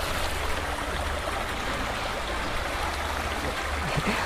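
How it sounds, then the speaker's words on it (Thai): A small, clear waterfall on a countryside outing pours in a steady, close, even rush of water with no pauses or voices. "น้ำตกเล็กมากเลย"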